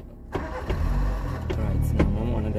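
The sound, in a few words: car engine starting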